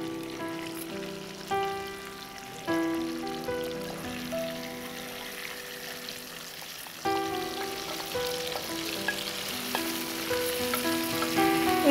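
Chicken frying in hot oil in a home kitchen, already cooking with tomato and mustard paste, a steady close sizzle with crackling spits running under quiet tonal background sounds and occasional clatters.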